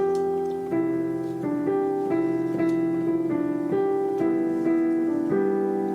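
Piano plays a simple melody in even, straightforward rhythm, chords changing every half second or so, clear and close with no talking.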